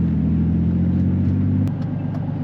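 A turbocharged BMW E46 fitted with a CXRacing turbo kit running 8 psi of boost holds a steady, close, deep engine rumble that drops slightly near the end.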